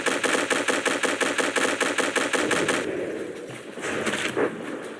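Rapid mechanical bursts from an enemy torpedo system firing in From the Depths, a fast regular rattle for about three seconds, then rougher, duller thumps and hiss that trail off.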